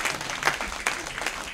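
A church congregation clapping at a service, a short burst of brisk, fairly loud applause from many hands that swells and fades over a second or two.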